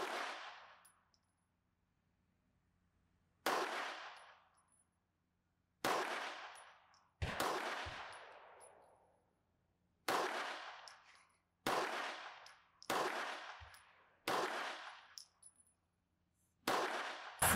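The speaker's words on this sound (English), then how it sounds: "Shot my first 9mm in the 1911 frame, and it was as cool as I thought it would be." Shots from a Tisas Carry B9 1911 9mm pistol crack out one at a time at irregular intervals, with about ten loud reports, each followed by a short decaying echo, and no talking.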